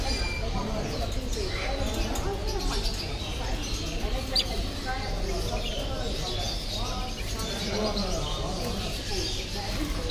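Pigeons coo at a busy Friday pet market in Kuwait, including a pigeon with a swollen head. Soft, repeated low coos sit under steady crowd and market chatter along with scattered small bird chirps.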